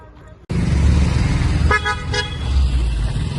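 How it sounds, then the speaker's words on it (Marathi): Car horns toot several times on a busy road at dusk, over steady close traffic rumble, with a voice heard faintly in the mix. "इकडं गाड्या आहेत ना गाड्या आहेत ना"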